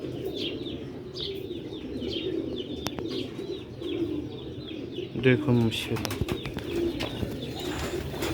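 Old Sialkoti pigeons coo in a low, throaty, repeated murmur with occasional chirps and a brief flutter, steady and close, while someone talks over them.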